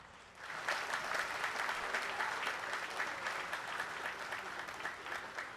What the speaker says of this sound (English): shall we do one very big round of applause for all of our recipients so far?